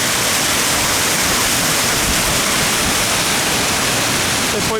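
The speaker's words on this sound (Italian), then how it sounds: "Il torrente comincia qua, esce di qua l'acqua," The Masare waterfall and a mountain stream in the Dolomites near Alleghe roar steadily as dense, unbroken rushing water, loud and close, filling the whole stretch without pause.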